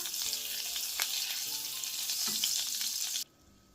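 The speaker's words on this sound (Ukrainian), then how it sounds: "Котлети смажимо на середньому вогні, з двох сторін до золотавої скоринки." Chicken cutlets sizzle and crackle steadily in hot oil and butter in a pan over medium heat, with small pops throughout, then the sizzling cuts off abruptly near the end.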